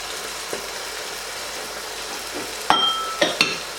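Mutton sizzles in a hot pan as ground roasted spices, red chilli, tamarind pulp and yogurt are stirred in for Hyderabadi mirch gosht. A steady close frying hiss runs throughout, broken near the end by a few sharp clinks of the spoon against the pan.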